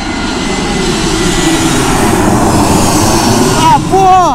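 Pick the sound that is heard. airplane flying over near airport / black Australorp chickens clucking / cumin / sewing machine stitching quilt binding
airplane flying over near airport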